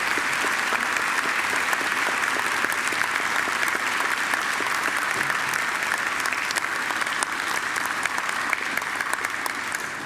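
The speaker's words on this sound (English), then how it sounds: "And now I invite you to give them a mighty round of applause." Sustained applause from a large graduation ceremony audience at Macquarie, graduates and families clapping in a thick, even roar that holds steady and loud for about ten seconds.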